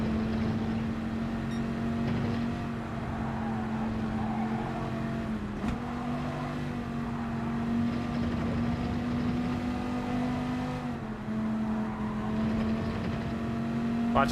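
A Dodge Viper engine in Gran Turismo 7 holds a steady, sustained drone at near-constant revs, with brief dips at gear changes and a voice talking faintly underneath.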